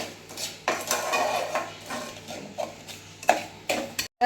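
Ravali is stirred and roasted in a pan, and a spoon scrapes and clinks against the metal in irregular bursts, close by and fairly clear.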